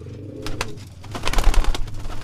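Soft, low pigeon cooing repeats a few times close by, with some rustling and shuffling noises around it.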